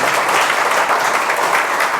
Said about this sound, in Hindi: सबसे पहले तो सर के लिए जोरदार तालियां बजा दीजिए